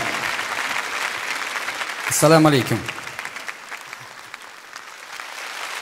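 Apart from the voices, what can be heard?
audience applause welcoming a guest singer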